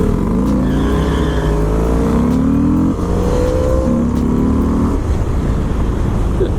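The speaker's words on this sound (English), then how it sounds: "I beat the Aprilia in a drag race to the line." Harley-Davidson FXDLS motorcycle racing an Aprilia: a loud, continuous engine roar with rising revs and sharp gear-change drops, close by and sustained throughout with no talk.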